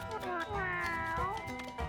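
A video game cat in Mewgenics meows in a drawn-out, wavering call lasting a couple of seconds, fairly loud and close, over game sounds with some speech mixed in.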